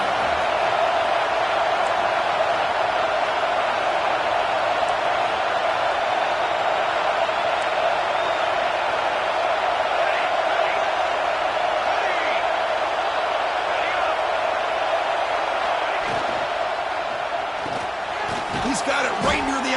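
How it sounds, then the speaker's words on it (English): A football stadium crowd roars in a steady, loud wash of cheering behind a defense in the red zone, and it holds evenly for the whole stretch before a few scattered thumps and shouts at the end. "the crowd coming to life here, trying to help this defense down in the red zone"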